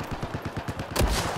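A sniper rifle shot cracks out in an online shooter game, a single loud report near the end that follows a run of rapid, evenly spaced gunfire pops.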